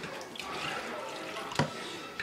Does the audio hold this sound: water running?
yes